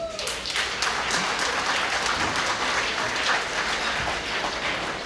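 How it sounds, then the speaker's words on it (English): Guests at a foundation gala applaud with sustained, even clapping that stays loud and full for the whole stretch, a dense crowd sound with no voices rising above it. "Give yourself a round of applause"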